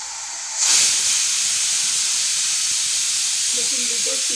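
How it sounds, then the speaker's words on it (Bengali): Steam hisses loudly out of a pressure cooker as it vents while rice-and-lentil khichuri cooks, a sudden broadband rush that starts after a brief pause and holds steady to the end, with faint low tones entering near the close. "দেখুন দুটো সিটি হলেই কিন্তু আমি এবার প্রেসার কুকারটা বন্ধ করে দেব।"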